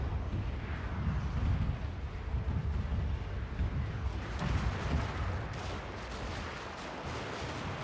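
Artillery and gunfire rumble on in a Fall of the Samurai battle: dense, continuous booming volleys that layer into a steady roar with no gaps across the whole stretch.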